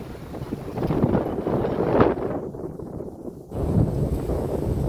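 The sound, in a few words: strong wind blowing by the sea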